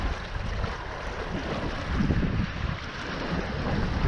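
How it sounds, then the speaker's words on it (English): Steady, roaring wind buffeting the microphone while foil windsurfing on Lake Jocassee, North Carolina, a continuous broadband rush that swells slightly midway, with no voices. "Glad the wind is cooperating again"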